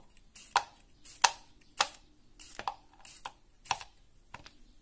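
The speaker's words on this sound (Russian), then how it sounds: "Так, теперь я нарезаю огурчик." Seven crisp knife strokes slice through a cucumber on a cutting board at a steady, unhurried pace, close and clear with quiet gaps between cuts.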